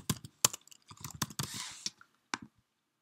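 Someone enters a new password on a computer keyboard to log in, producing quick, irregular clusters of light, close keystrokes and clicks in a quiet room, ending with a single firmer tap after a pause.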